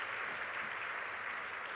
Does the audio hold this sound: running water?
no